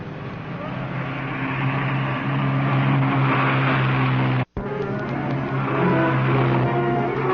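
A race car on a qualifying run, heard as a loud, steady engine roar with a brief cut in sound midway before the roar resumes, and a faint voice underneath.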